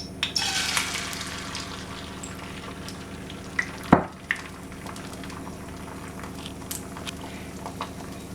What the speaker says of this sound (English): we're going to add half of the egg mixture to the frying pan